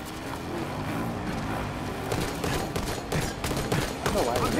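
Bursts of gunfire crackle through a Halo 5 minigame, rapid shots layered over engine-like rumble and voices talking, growing busier and sharper toward the end.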